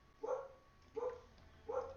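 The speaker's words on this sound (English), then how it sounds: "Oh, this dog, I swear." Three close, moderately loud barks from a dog indoors, evenly spaced about three-quarters of a second apart over a quiet room hum, with nobody speaking.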